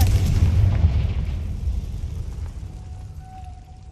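A Confringo blasting curse explodes in Hogwarts Legacy with a single deep, loud boom that rumbles and slowly fades, leaving a thin lingering ring.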